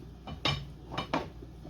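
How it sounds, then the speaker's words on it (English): Spoon stirring spinach into ham and potato soup in a pot, giving two short metallic clinks against the pot's side over a quiet kitchen background. "Mix it in thoroughly."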